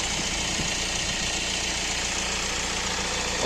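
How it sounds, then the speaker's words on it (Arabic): A Hyundai ix35 CRDi diesel engine idles steadily up close, a constant low rumble with a faint knocking texture and no voices. "موتور زوين كيدور مزيان"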